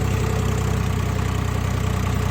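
A 855 tractor engine in 4x4 runs loud and close with a steady, pulsing low chug that never lets up.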